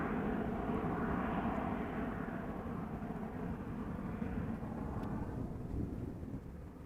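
At Amsterdam Schiphol Airport, an airliner's engines make a broad, rumbling roar at a distance. The roar holds steady and then eases slightly toward the end, with some wind buffeting and no voices.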